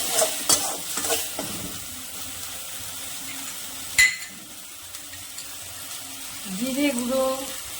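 Spices being stirred and fried in a pan for a Bengali prawn curry, with scraping stir strokes and a soft sizzle running close and moderately loud, a sharper clatter near the middle, no talking.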